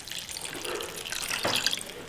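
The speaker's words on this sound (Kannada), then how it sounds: "ನಾನು ಜಾರ್ನಲ್ಲಿ ನೀರು ಹಾಕ್ಬಿಟ್ಟು ಹಾಕ್ತಾ ಇದ್ದೀನಿ." Water from a jar pours into a pan of egg curry, a steady splashing trickle close by that thickens and grows louder toward the end, with no talking.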